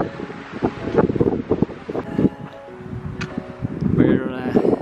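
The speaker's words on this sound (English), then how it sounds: "It's getting pretty windy," Wind gusting on Acatenango volcano in Guatemala, high on the trail around 3,500 meters, buffeting steadily beneath near, continuous talking.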